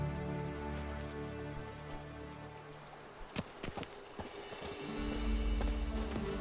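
Horse hooves clip-clopping at a gallop in The Witcher 3 video game, a rapid steady beat over a background music bed, with a brief whinny and a louder low rumble near the end.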